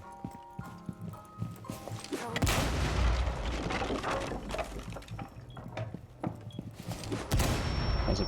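A grenade explosion in an online video game: a sudden heavy boom, followed by several seconds of rumbling, crackling game noise.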